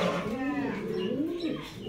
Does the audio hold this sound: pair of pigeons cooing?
yes